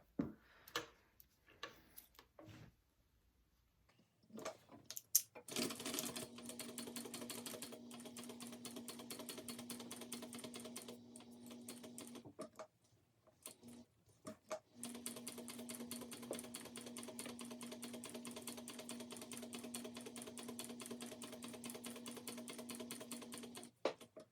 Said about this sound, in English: very slow and carefully, 1/4 inch along just this curved edge, leaving this part open because you have to turn it through